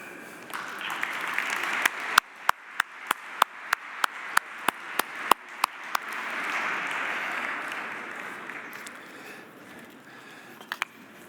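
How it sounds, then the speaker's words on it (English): A conference audience applauds as four panelists take the stage for a circular-economy discussion, starting with a run of sharp, evenly spaced claps near the front that swell into a broad, steady wash of applause before it thins out. "Please give a big round of applause to Lauren Kjeldsen, Mark Erhardt, Surendra Patavari,"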